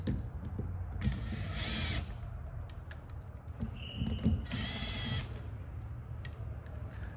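An impact wrench drives bolts on a rebuilt power steering pump for a Toyota 22R engine, two short whirring bursts with mechanical clicks and handling noise between them, close by, with no speech.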